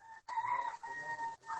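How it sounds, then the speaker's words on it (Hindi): A rooster crows from behind a microphone, one drawn-out cock-a-doodle-doo heard faintly at a distance, alone without talk. "फिर मुर्गा बोलता है इसके पीछे, गजब।"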